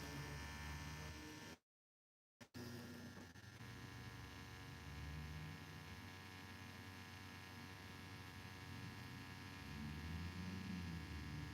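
A tattoo machine buzzes steadily while inking fine lines, a continuous low electric hum with mains-like drone that cuts out briefly near the start, then resumes unchanged for the rest of the stretch.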